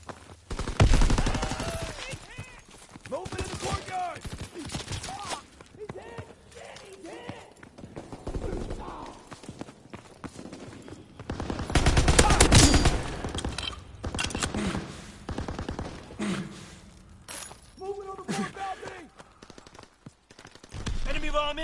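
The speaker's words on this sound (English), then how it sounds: "Taking heavy fire." Heavy gunfire near a cannon on a platform, with loud clusters of shots and bursts coming in waves, one particularly dense volley mid-way, mixed with shouting voices and other battle noise.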